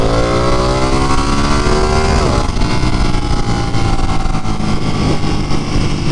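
A Ducati 959 Panigale motorcycle being ridden gives a loud, steady engine drone close up. The pitch climbs and then drops sharply once midway through, as on a gear change, with constant rumble and no voices.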